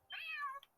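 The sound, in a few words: cat meowing in video game Trails through Daybreak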